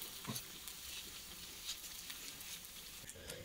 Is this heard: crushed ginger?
yes